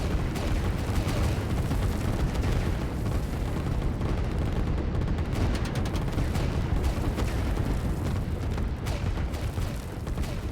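Artillery in the Line War video game fires in a dense, continuous barrage of booms and rattling blasts, loud and steady throughout with no pauses and no talk.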